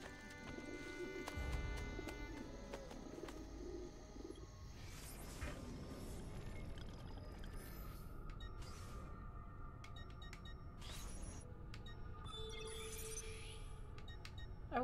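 Pigeons coo in the Assassin's Creed Brotherhood video game, soft low cooing mixed with game ambience, faint clinks and other bird calls, with no talking.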